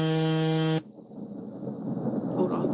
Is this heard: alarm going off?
yes